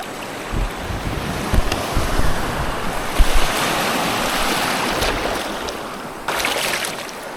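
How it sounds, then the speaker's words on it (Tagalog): Strong ocean waves surge and crash against rocks along a coastal road at Mauban, with gusty wind buffeting the microphone, a continuous roar rising in swells. "Malakas ang alon ah."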